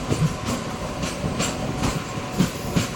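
A Kachiguda to Raichur MEMU passenger train (67787) rolls along the tracks with a steady rumbling clatter, periodic clicks from the wheels over rail joints, and a constant hiss of movement, heard from on board with no talking.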